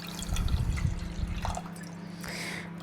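Water poured into a pot while making wine shortbread cookies, a steady close splashing stream for about a second and a half that then thins to a trickle, with no talk over it.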